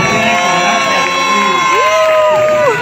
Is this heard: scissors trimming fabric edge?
no